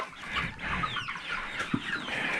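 Several chickens cluck and chatter continuously in a busy coop, with scattered soft squawks and rustling, fairly close and steady.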